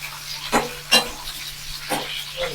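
Tomatoes and green chillies frying in oil for an okra and green chilli chutney, stirred with a spoon: a soft, close sizzle broken by a few brief scraping strokes.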